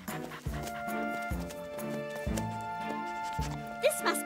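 A cartoon rescue dog in Fireman Sam gives short barks and a whimper, moderately close, mixed under background music and sparse character voices.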